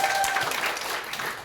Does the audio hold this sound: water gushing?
no